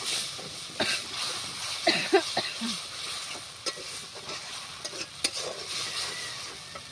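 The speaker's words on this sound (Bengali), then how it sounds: "মশলাটা ভালোভাবে কষাতে থাকবো যতক্ষণ না মশলা থেকে তেল ছেড়ে যাচ্ছে" Spice paste for chicken curry fries and sizzles in a pan while a utensil stirs and scrapes it at irregular intervals, a soft steady hiss under the clinks, close by.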